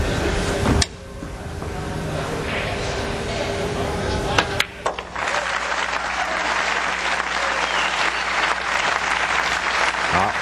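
Applause from a crowd at a 9-ball pool semi-final, steady and fairly loud, sustained broadband clapping that swells after a brief pause, with a faint commentator voice beneath.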